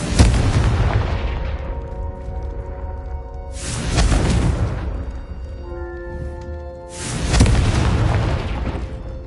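Confringo blasting-spell explosions in Hogwarts Legacy: three loud, deep booms, each swelling then decaying over a few seconds with a ringing tail, with no talking.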